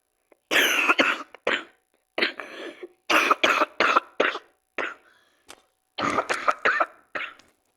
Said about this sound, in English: I recently got sick, so like you might hear me like coughing a little bit.